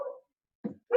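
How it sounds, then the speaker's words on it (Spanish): A pet dog gives three short, close barks separated by brief silences. "Mi perro."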